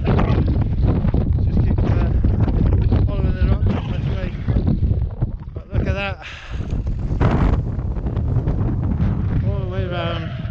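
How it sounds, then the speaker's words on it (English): Strong, gusty wind on a snowy mountain summit buffets the microphone with a heavy roar throughout, while a person speaks intermittently beneath the noise. "it's really windy up here"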